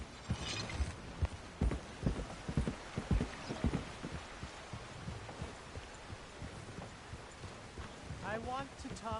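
A horse's hooves clop at a walk in Red Dead Redemption 2, moving into river water, with uneven close thuds and splashy impacts that fade toward the end as a voice speaks briefly.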